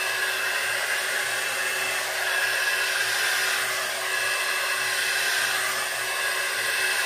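A Conair Primrose 3-in-1 hot air styler blows on its cool setting, a loud, steady whooshing motor hum that runs unbroken close to the listener, with no one speaking.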